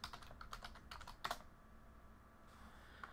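Quick, soft clicks of a computer keyboard as a password is entered, a short burst of keystrokes followed by near silence and one last faint tap.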